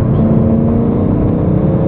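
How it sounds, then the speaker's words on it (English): Exhaust of a BMW M3 V8 with dual throttle bodies, a loud steady low rumbling engine drone heard from inside the car, continuous with no clear rise or fall in revs. "Oh, the exhaust does sound good."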